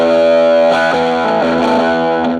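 An electric guitar chord rings out through a Sola Sound Tone Bender MKII fuzz pedal with the guitar volume rolled back, into an Oahu Supro Valco 1615T 1x15 amp, distorted but slightly softened, loud and sustained for a couple of seconds, with no voices.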